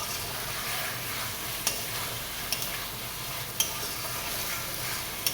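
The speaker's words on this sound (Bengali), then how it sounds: "তো এই যে আলু আর মশলাটা ভালো করে কষিয়ে নিচ্ছি" Potatoes with chilli powder, turmeric, sugar and salt being sautéed in a pan, a steady frying sizzle with a few sharp clicks of stirring, close and alone without talk.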